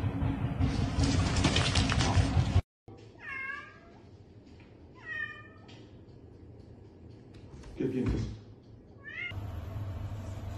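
A cat meows repeatedly, several short rising and falling cries spaced apart, heard close and clear after a burst of loud noise, with a brief low thud near the end.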